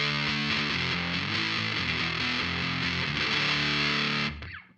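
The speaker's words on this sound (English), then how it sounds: "Just a basic vintage style distortion" Thin, simple vintage-style distortion from a Fuzzsimp FX Muzzsimp pedal on bass, a loud gritty played line with shifting notes that holds steady for about four seconds, then cuts off and decays quickly.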